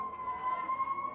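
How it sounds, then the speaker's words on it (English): A faint emergency vehicle siren holds a steady, high wail in the distance outside a high school field game, brief and alone. "I apologize for the sirens."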